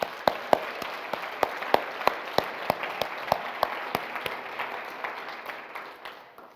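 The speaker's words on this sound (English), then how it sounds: "big round of applause for them." Conference audience at an opening session in Munich applauding, dense clapping with distinct sharp louder claps in a rhythmic pattern, gradually fading out toward the end.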